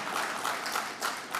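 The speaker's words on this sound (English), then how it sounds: "I'd like us to give a round of applause for what he has done for Trinidad and Tobago, Dr. Keith Rowley" An audience at a hospital completion ceremony in Port of Spain applauds Dr. Keith Rowley, producing a brief, moderately loud wash of steady clapping.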